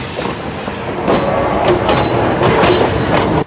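The Q Train in Victoria, Australia rumbles past close by with loud steady rolling noise and rhythmic clickety-clack of wheels over the rails.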